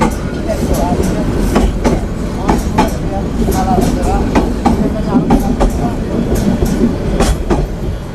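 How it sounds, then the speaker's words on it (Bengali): A train rolls past on railway tracks with a loud, rhythmic clickety-clack of wheels over rail joints, steady throughout, while voices talk over it. "ডাবল ট্রেন তো বুঝতে পারে না ডাবল আসছে হরন দিছে"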